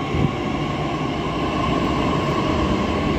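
A Pune metro train bound for Vanaz runs past near Chhatrapati Sambhaji Udyan station, a loud continuous rumble and whir of the wheels and motors, steady throughout with no talk.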